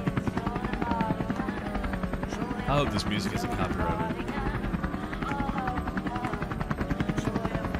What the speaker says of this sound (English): he flies a drone at them, and they don't like it